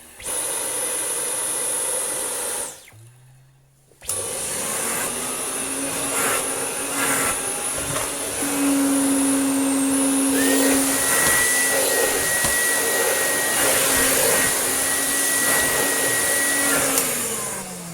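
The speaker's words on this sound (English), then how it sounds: "I have to put the Dyson into boost for it to feel like it's sucking down as much as that does" A Hoover Dustette 100, an antique Canadian model after refurbishment, and a Dyson V11 vacuum cleaner run on boost. The result is a loud, steady motor whine and rushing hiss with one brief dip and shifting pitch, with no talk.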